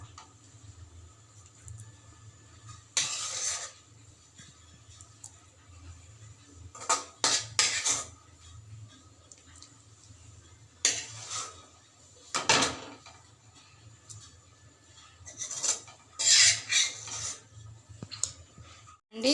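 A spoon scrapes and clinks against a pan while gongura leaves are stirred, coming as scattered bursts of metallic clatter separated by quiet gaps over a low steady hum.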